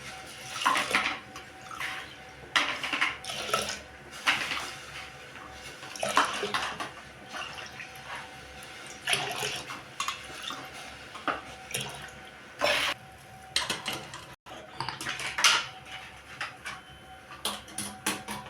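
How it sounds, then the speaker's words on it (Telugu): Water poured into a pot of rice for bisibele bath, a steady splashing pour with bursts of louder gushing and brief pauses, close by with no talk. "మనం ఒక 5 గ్లాసులు నీళ్ళు పోసుకోవాలి"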